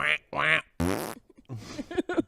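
A voice imitates a duck fart, producing a few short buzzy, quacking vocal bursts in quick succession, close and fairly quiet.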